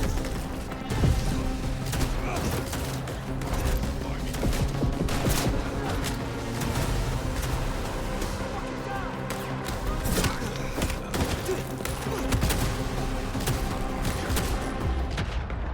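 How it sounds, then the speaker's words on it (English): Shotgun blasts in Vampire: The Masquerade Bloodlines 2, sharp repeated booms in an uneven rapid rhythm, loud and close over a constant layer of game music and ambience. "so your shotgun just be like bow bow bow bow bow"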